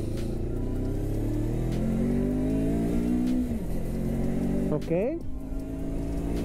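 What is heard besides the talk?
Taro GP1 400 cc motorcycle engine revving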